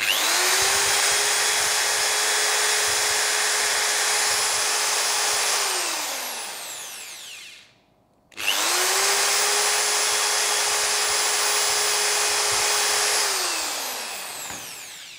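A RYU RDR10 electric drill with a 10 mm chuck spins freely without load, whining loud and steady for several seconds, winding down to a stop, then revving straight back up to a sustained high-pitched run before easing off.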